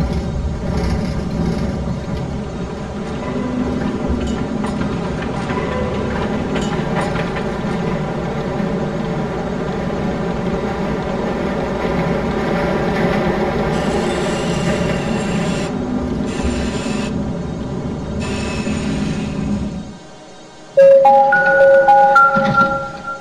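A tram runs on rails through the Russian city streets of the video game MTA Province, with a steady loud rumble of wheels and motor, rising wheel squeal midway, then a brief drop and chime-like electronic tones near the end.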